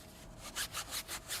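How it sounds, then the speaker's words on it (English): A stiff brush scrubs a tire coated in Signature Series wheel cleaner, giving about five rhythmic, rasping strokes that rise and fall in steady succession at close range, with no voices. "I'll go to that surface and I'll just scrub it out."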